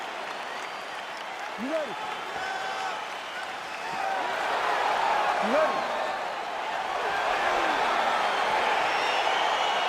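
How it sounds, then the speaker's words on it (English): Arena crowd in EA Sports UFC 4 roaring steadily at a fight's start, a broad continuous swell that builds louder midway, under a referee's voice calling out. "crowd getting excited as this fight gets underway"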